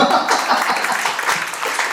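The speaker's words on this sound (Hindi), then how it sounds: "एक बार भाई के लिए जोरदार तालियां" Audience applause at a company rewards and recognition event, a brief burst of dense clapping that sounds close and fairly loud, with a voice faintly mixed in.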